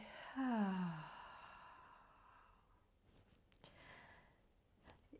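A long exhale through the mouth during gentle vinyasa yoga breathing, a soft voiced sigh falling in pitch, followed by quieter breathy rustles and faint noises.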